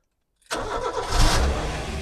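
A small Japanese 1.5-litre petrol car engine cranks and fires abruptly after silence, then settles into a steady, loud, close idle with a slight rise in revs.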